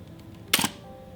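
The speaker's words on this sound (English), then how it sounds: "So you just cock the shutter, and when you click it," A single crisp mechanical shutter click from a Mamiya RZ67 medium format camera, quick and close, against a quiet room.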